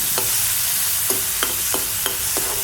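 Tomato and onion sautéing in oil for a beans stir-fry, a constant hiss of frying under several sharp, evenly spaced spoon scrapes and taps against the pan, close up with no voices.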